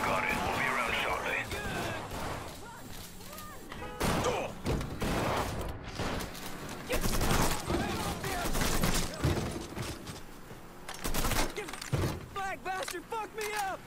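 Gunfire from a Mafia 3 firefight, laid down as cover fire, crackles in bursts among clanks and mechanical noises, with shouted voices breaking in several times over the 14 seconds.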